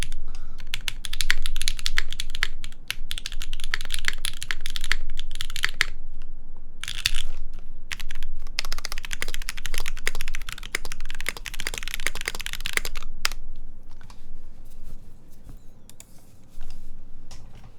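Rapid, dense keystrokes clack steadily from an Ion Zenith mechanical keyboard fitted with thick NicePBT keycaps, coming in bursts with a few short pauses, close and fairly loud, with no voices.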